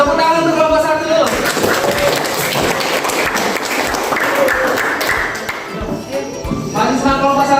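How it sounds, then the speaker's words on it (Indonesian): Classroom applause for a student group during a Year 10 high school lesson on a simple pendulum, a dense patter of clapping hands lasting several seconds with voices mixed in, close and fairly loud. "Tepuk tangan untuk kelompok satu dulu"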